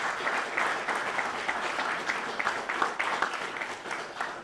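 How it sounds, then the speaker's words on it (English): An evening audience gives a round of applause, dense steady clapping from many hands that carries on evenly for several seconds at moderate loudness. "Give them a round of applause."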